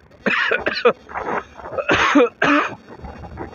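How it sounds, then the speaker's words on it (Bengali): A person coughs in a rough series of about five hacking bursts close to the microphone, separated by short breaths. "কাশি উঠে আসে"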